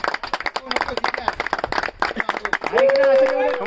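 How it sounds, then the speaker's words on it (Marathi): A group of people claps in quick, uneven bursts while voices shout and cheer over the hands, ending in a long, sustained shout. "सिद्ध्या टाळ्या टाळ्या टाळ्या"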